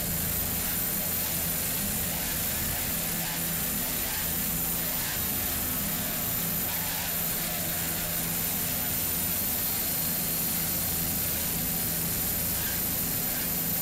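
Offshore powerboat racing engine roars on very rough water off St. Petersburg, Florida, at a 2005 Offshore Super Series race, a steady loud broadband rush with hissing spray and engine drone throughout.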